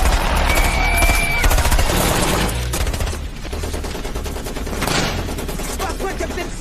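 Loud, dense machine-gun and rifle fire fills a battle scene from the war film Black Hawk Down, with continuous overlapping volleys throughout.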